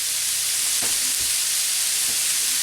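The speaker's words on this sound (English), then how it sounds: "we are going to cook the noodles" Rice noodles with oyster sauce sizzle in a hot pan, a steady bright hiss with soft stirring scrapes, close and continuous with no talking.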